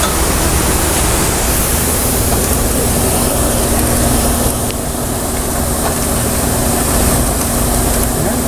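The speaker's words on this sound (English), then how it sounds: "We're running the press with a variable frequency drive." Screw press running on a variable frequency drive while dewatering ethanol fermenter sludge through a hopper-fed, four-stage screw: a loud, steady broadband wash of machine noise with a faint constant hum, unbroken throughout.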